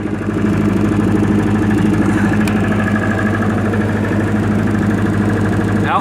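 A 1995 Libby MEP-803 10 kW diesel generator runs at a steady idle, a constant close mechanical drone with an even throbbing hum and no changes in pace.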